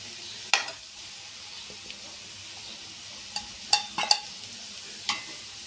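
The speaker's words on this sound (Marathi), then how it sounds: "याला लो गॅसवर छान परतवून घेऊ" Mutton keema with spices sautéing on a low flame for samosa filling: a quiet, steady background sizzle punctuated by several sharp clinks and scrapes of a spatula against the pan, close by, with no one talking.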